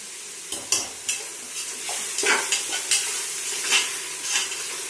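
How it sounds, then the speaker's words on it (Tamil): Fresh mint leaves sauté in hot oil for chicken biryani, a steady broadband sizzle with irregular scraping stirs and soft utensil knocks throughout, close and fairly loud with no talking. "மொத்தமாக போட்டு நல்லா வதக்குன்னு நல்லா வதக்கிட்டு இருக்கோம் பாருங்கள்."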